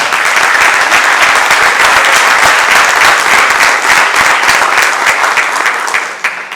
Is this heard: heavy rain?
no